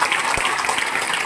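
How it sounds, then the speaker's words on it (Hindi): Enthusiastic applause from a seminar audience, steady and loud throughout, with a voice faintly beneath it. "एक बार चाहेंगे जोरदार ताली"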